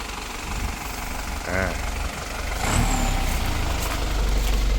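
An Isuzu NPR 120 long-body truck engine idles quietly with a steady low rumble that swells slightly partway through, while a voice briefly talks nearby.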